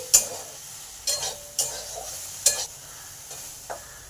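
Okra fries in a pan under a low steady sizzle, broken by several sharp scraping strokes of a spatula stirring it, close and fairly loud, with no talking.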